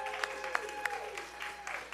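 Light, scattered clapping from a small audience at a Nerd Nite talk at Littlefield thanks the venue staff. The claps are brief and uneven over a faint background hum.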